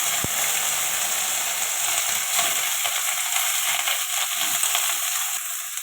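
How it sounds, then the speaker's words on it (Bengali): Okra frying in a little hot oil, a steady bright sizzle that runs the whole time at a close, even level with no talk over it. "এবারে ভেন্ডিটা ভেজে নেব।"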